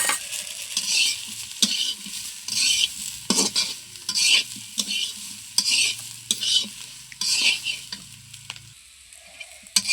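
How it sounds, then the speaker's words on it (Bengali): Pointed gourd frying with a little turmeric and salt, a soft sizzle under repeated close scrapes and knocks of a spatula stirring in the pan, irregular and without talk. "আমার পটল প্রায় ভাজা হয়ে গেছে, এখন আমি সামান্য একটু হলুদ গুঁড়ো দেব।"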